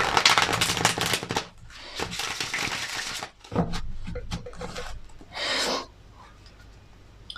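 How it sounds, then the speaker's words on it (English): Tarot cards shuffled close up in rapid riffling bursts, loud crackling flurries broken by short pauses, with no voice over them. "So let's get these cards shuffled in."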